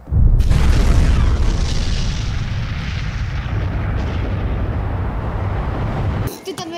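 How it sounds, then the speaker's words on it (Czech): A loud, booming explosion sound effect, set off by pressing a red button, erupts at once and rumbles on for about six seconds before cutting off abruptly. "Ty tam je efekt výbuchu."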